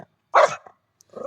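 A dog gives one loud bark up close during an outdoor walk with other dogs, followed by a short pause and then softer, rising vocal sounds that trail off.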